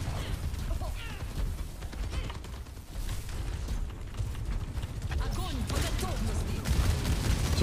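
Steady rapid gunfire in Overwatch 2 with Bastion, a continuous fusillade of game shots running throughout, with players calling out over the fighting.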